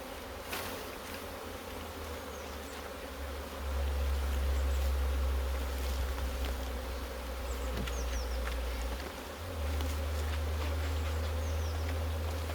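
Honey bees buzzing around an opened beehive during a frame inspection, a dense continuous hum close by with individual bees droning past, swelling and easing in loudness, alone without talk.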